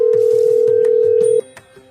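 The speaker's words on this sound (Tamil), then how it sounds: "ஃபோன் அடிச்சு பார்ப்போம்." Outgoing phone call tone: a loud, steady electronic tone held for about a second and a half, then abruptly cut off, followed by a few faint clicks.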